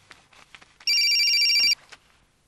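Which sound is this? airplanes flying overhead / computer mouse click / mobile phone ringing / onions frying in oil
mobile phone ringing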